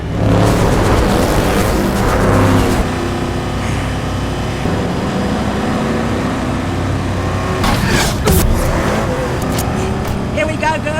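Furiosa's car roars back in a film scene, its engine revving loudly and steadily under dramatic music, with voices talking over it and a few sharp impacts near the end.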